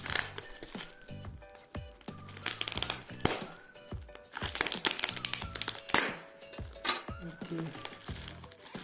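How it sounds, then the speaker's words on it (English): Scotch tape crackles and tears as it is peeled off the packaging of an addlink S70 256GB NVMe M.2 SSD, in loud, close, repeated rips and crinkles, with a voice faintly present at times. "there is too much scotch tape around"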